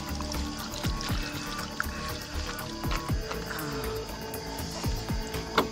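Water is poured onto someone's hands at a night campsite in a forest, a continuous splashing trickle with irregular drips, heard up close and fairly loud throughout.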